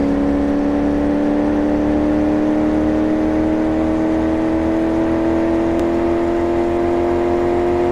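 A driverless car rolls down a test track in Car Mechanic Simulator 2018, its engine holding a loud, steady drone whose pitch creeps slowly upward, with no other sounds over it.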